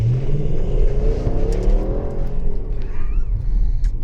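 An Audi S6 engine revs loudly and close, pitch rising and falling as it accelerates, with a faint whine in the background.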